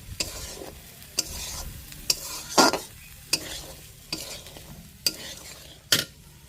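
Boiled peas are stirred in mutton fat for a ghugni, with sharp regular scrapes of a utensil against the pan about once a second over a low sizzle, close by and with no voices.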